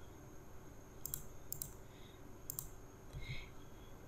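Faint, sparse mouse clicks on a computer running Fusion 360, a few quick taps spaced about half a second apart over a quiet, steady room hum.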